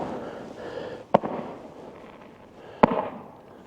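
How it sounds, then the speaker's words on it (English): A pair of firework explosions pop out about two seconds apart on the shore at Nells Point, Barry, sharp and mid-distance, with a fading crackle after each. "Somebody's letting off fireworks."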